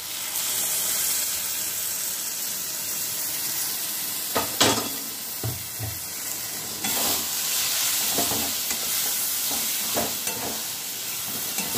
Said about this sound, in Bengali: এটা দিয়ে কিছুক্ষণ, বেশিক্ষণ নয়, কিছুক্ষণ আমি এটা আবার কষিয়ে নেব।